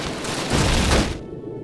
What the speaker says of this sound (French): Ils ont balancé une grenade